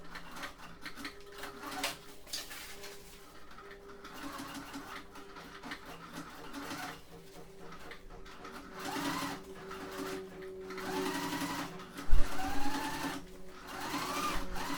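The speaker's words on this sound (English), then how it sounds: "I'm sewing it together here so I have a long piece" A sewing machine stitching pieces of vinyl together for a motorcycle seat cover, running in steady continuous bursts with a rhythmic mechanical whir and a brief louder knock near the end.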